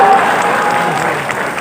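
A crowd at an Independence Day poet gathering breaks into sustained clapping, a steady wash of applause with no voices standing out.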